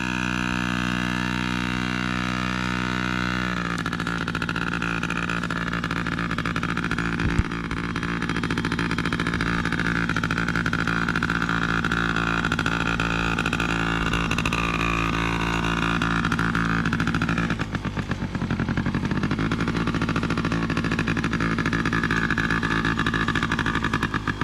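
An engine runs continuously as a first-time rider gives it gas, its steady drone shifting pitch as the throttle opens partway through and again later, with no voices.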